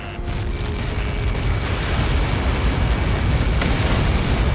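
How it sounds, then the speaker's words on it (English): Huge impact explosion in Ace Combat 7 from a falling projectile: a dense, continuous roaring rumble that holds loud and steady throughout with no talking. "How many got caught in that explosion?"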